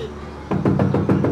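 Heavy knocking pounds on a door in a tense drama scene, about six loud, evenly spaced blows that begin halfway through after a quiet stretch.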